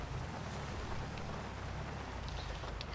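Rain falls in the GTA 5 video game, a steady, even hiss of drops that runs without a break, faint and diffuse, with no voices.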